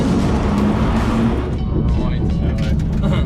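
A Nissan Safari 370Z rally car with Recaro seats and Takata harnesses drives on gravel, its loud engine droning steadily with crunching road noise and a voice talking over it.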